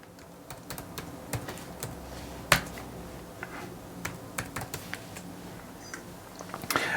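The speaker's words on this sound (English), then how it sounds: "type in your password." Light, irregular clicks of fingers typing a password on a Mac keyboard, quiet and close, with a few sharper key taps standing out against a faint background hiss and no talking.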